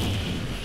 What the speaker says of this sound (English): Did you hear how loud that explosion was?